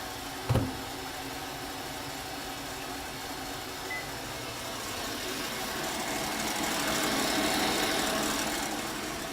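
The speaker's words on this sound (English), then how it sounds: "I'm going to heat those up in the microwave." A steady electrical hum runs continuously, like a microwave oven operating, with a sharp click near the start and a slight swell toward the end.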